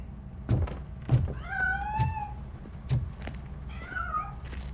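A cat meows several times in the Robocop Rogue City game world, drawn-out rising and falling cries spaced over a few seconds, moderately close, with soft thumps and a low background hum.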